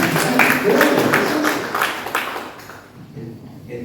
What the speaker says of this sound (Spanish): Vamos a dar un aplauso a él.